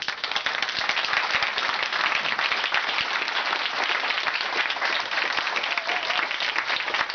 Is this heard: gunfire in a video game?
no